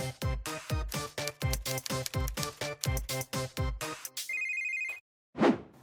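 A telephone rings during a call: a loud, close series of repeated ring bursts in a steady rhythm, followed by a short sustained electronic tone, a brief silence and then a final short burst.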